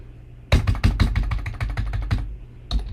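Rapid keystrokes on a computer keyboard as a file name is typed, a quick irregular burst of close, crisp clicks over a faint background hum, with one last short tap after a brief pause.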